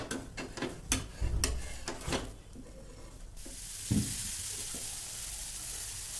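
An uttapam cooks on a hot iron tawa: a few sharp clatters and knocks come first, then a steady, close sizzle hisses alone.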